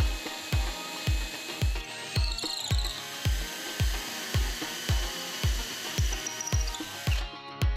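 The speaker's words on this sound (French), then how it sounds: "Nous commençons par percer la latte inférieure à l'aide de l'accessoire" Power drill with an accessory boring into the lower wooden lath of a radiator cover, a steady whine broken by regular heavy thumps roughly every half second, close and loud, ending abruptly.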